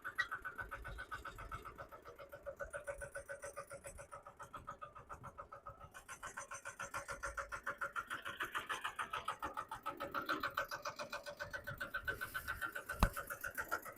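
A nano tractor power tiller makes a tight turn with its engine running, a quiet, steady chugging with regular pulses that swells slightly toward the end.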